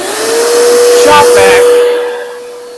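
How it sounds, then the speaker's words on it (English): A shop vacuum roars loudly and steadily with a whining motor hum, then winds down toward the end. "I'll make a little bit of noise. Shop vac."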